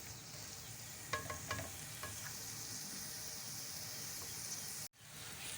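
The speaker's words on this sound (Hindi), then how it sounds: "ये बंद गोभी और शिमला मिर्च को भी तकरीबन हमने 1 मिनट फ्राई कर लिया है।" Chopped cabbage and capsicum frying in a pan for chicken vegetable pasta, a continuous soft hiss of sizzling oil with a few faint clicks of stirring early on, fairly quiet and steady.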